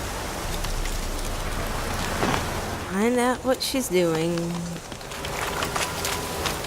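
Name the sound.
storm rain in The Witcher 3 video game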